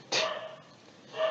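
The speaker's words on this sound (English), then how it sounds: "Oh my gosh, she's barking so much." A pet dog barks twice indoors, a sharp close bark followed by a second softer one a moment later, with no talking over it.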